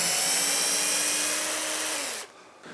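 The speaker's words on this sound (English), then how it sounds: "make the slots for those hinges 2mm deeper, and I'll do that with the router and a chisel" A router spins at high speed, cutting deeper hinge slots in a wooden shed door, a close, steady whine whose pitch drops slightly before it cuts off at the end.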